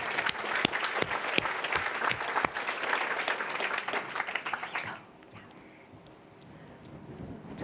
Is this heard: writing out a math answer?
no